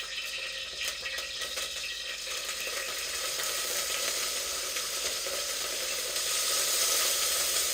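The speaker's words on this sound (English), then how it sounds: "drench them in a lot of oil. Then you add the sardines" Mukene silverfish, small Ugandan sardines, frying in hot oil make a loud, continuous sizzle with dense crackling that holds steady and swells slightly near the end. No one speaks over it.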